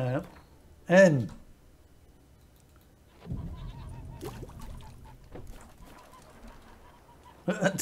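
Geese honking in The Witcher 3, a couple of loud nasal honks near the start and end, with game ambience and movement sounds between them.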